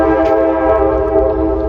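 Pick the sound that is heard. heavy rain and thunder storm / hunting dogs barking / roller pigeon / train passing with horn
train passing with horn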